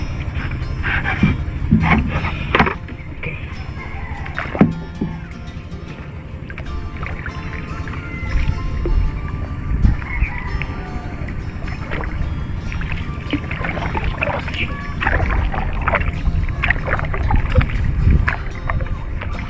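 A small fishing boat's engine rumbles steadily on the water as it sets off, with splashing, creaking knocks and wind buffeting the microphone throughout.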